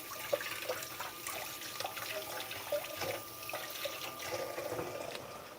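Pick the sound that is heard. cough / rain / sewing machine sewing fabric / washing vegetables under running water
washing vegetables under running water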